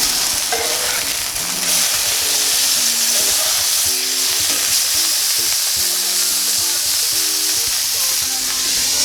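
Venison and pork sausage test patties fry in a pan with a loud, steady sizzle that crackles and spits without pause. No one speaks.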